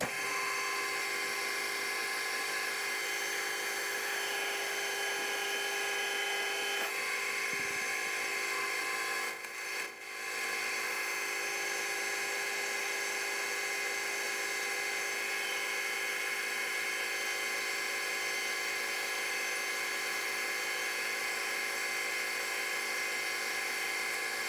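A mill facing off a metal part with a new insert cutter and an MT3 fly cutter, a steady high whining cut that holds for the whole stretch with one brief dip partway through, close and fairly loud, no speech.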